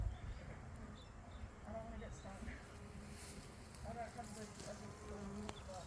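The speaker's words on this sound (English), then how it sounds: "That is a lot of bees on that chair." A swarm of bees gathered on a chair buzzes continuously in a dense, wavering drone, with muffled voices and wind noise mixed in.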